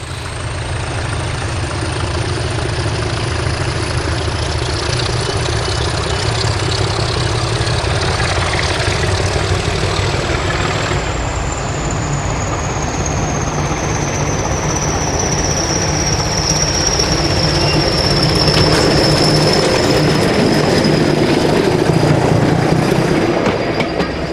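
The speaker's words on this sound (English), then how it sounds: "D5110 and D7612 departing from Staverton on the South Devon" Diesel locomotives D5110 and D7612 departing Staverton on the South Devon Railway, a loud throbbing engine roar with rumbling wheels and a whining tone that slowly falls in pitch, sustained throughout.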